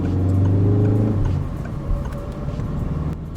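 A Citroën C4 engine under full throttle, a loud, steady drone that climbs in pitch for about a second, then drops to a rougher, broadband road and engine rumble as the car keeps driving.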